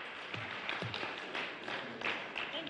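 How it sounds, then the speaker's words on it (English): An audience gives a round of applause at a panel session on the future of governance in Africa, a moderate patter of clapping hands with a few louder thumps. "Please, let's give them a solid round of applause again."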